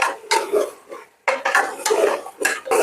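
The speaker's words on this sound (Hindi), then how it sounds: "इसको अच्छी तरह भूने। गोश्त का कच्चापन दूर करें, अच्छी तरह इसकी बुनाई करें।" Meat for achar gosht is fried and stirred in a pot, giving repeated close scraping and sizzling strokes in an uneven rhythm, with no voices.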